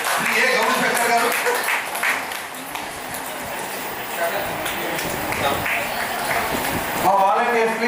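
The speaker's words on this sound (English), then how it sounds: "volunteers, please find which team is clapping more" Workshop audience teams applaud in scattered bursts of clapping, mixed with talk from a host and shifting crowd noise through the room.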